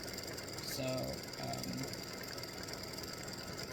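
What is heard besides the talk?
embroidery machine stitching spider earrings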